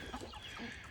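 Farm chickens cluck softly in a low, quiet murmur while being fed scattered feed, a few faint clucks rising from the flock at a distance.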